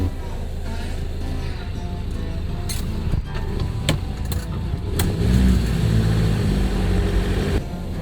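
A car engine rumbles and builds as the vehicle pulls away, with steady road noise and a few light clinks throughout.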